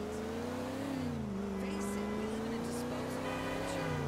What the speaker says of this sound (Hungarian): Baszki, az az autó. Eléggé megy.